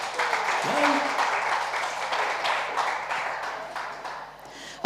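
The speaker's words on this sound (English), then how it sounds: "Yes, round of applause." A room of line dancers breaks into applause, a dense steady patter of clapping hands that holds for several seconds before trailing off at the end.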